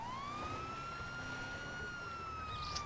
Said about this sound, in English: I'm gonna turn off my siren.